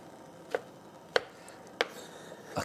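A knife cuts through a mushroom on a cutting board, striking four crisp, evenly spaced chops against a quiet background.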